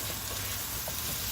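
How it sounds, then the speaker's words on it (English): Potatoes sautéing in a pan for mushroom chicken curry, giving a steady, close, low sizzle and frying hiss that holds evenly throughout with no talking. "So now I am going to add the potato in it. and saute a little bit."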